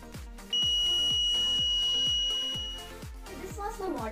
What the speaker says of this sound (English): it will give alarm when we try to touch our face in this way